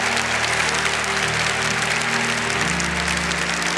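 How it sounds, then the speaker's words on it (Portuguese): A church congregation claps in sustained, dense applause that fills the room evenly from start to finish, with a low musical tone underneath. "Vamos aplaudir esta maravilhosa graça."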